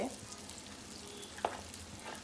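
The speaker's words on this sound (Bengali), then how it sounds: "পেঁয়াজগুলো এভাবে ব্রাউন করে ভেজে নিতে হবে" Chopped onions fry in a pan for a green chilli chicken, with a continuous soft sizzle and an occasional sharp clink of a spoon against the pan.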